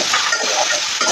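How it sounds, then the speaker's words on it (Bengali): Vegetables with slit green chillies and a pinch of salt fry in a pan for pui shak chorchori, making a loud, continuous hissing sizzle with light stirring scrapes. "প্রথমে সবজিগুলোকে একটু ভেজে নেব"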